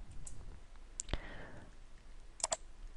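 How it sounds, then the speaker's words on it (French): A single Enter key press on a computer keyboard gives a faint, sharp click, followed shortly by a couple of small clicks in a quiet room. "Et j'appuie sur Entrée."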